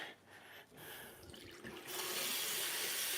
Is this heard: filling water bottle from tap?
yes